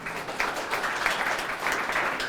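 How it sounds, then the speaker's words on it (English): An audience at a writing celebration applauds in a steady wash of many hands clapping, moderately loud and even throughout. "Big round of applause."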